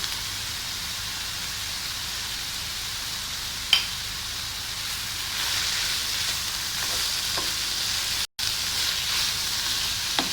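Chicken fries with vegetables and spices in a pan, giving a steady broadband sizzle with a couple of faint utensil knocks and no talk.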